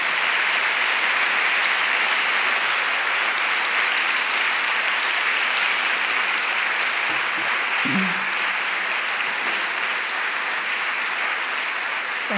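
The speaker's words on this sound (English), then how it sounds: "You've already learned when an applause is definitely needed." Sustained applause from a large crowd at a university opening ceremony, a dense, even wash of clapping that continues without pause.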